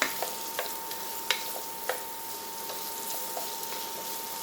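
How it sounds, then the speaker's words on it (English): A steady hiss of onions frying in a hot pan, with small pops and crackles scattered through, close and fairly loud, no voices. "I want it to really sizzle here."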